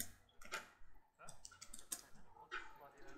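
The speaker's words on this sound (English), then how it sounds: "just typing away" Computer keyboard typing during a tabletop card game tournament round, a quick irregular run of light key clicks close by, with faint room chatter underneath.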